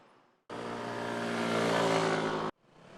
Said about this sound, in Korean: 도로와 인도를 넘나들며 달리는 오토바이들